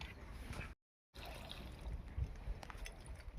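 Water is poured from a bucket down into a pipe during a snake rescue in Navanagar, Hubballi: a steady, fairly close splashing gush that breaks off in a short silent gap, then resumes with scattered trickles and knocks.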